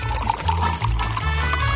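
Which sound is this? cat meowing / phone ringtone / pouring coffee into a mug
pouring coffee into a mug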